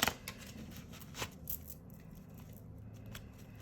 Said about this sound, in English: I'm going to shuffle the clarifying deck before we get into it.